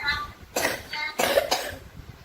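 A child coughs twice in quick succession in a Grade 4 classroom, short harsh bursts close by, with faint background chatter.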